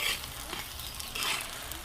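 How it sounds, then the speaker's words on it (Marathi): Steady, crackling sizzle of coriander seeds roasting in hot oil on a griddle, dense and continuous with no voices, fairly close. "थोडं थोडं भाजून घ्यायला चालू केलं आहे"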